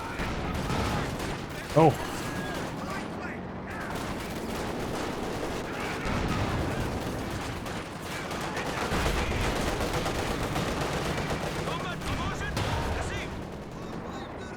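Battlefield gunfire in Company of Heroes 2, steady crackle of rifle and machine-gun fire with heavier blasts, mixed with unit shouts and a commentator talking throughout.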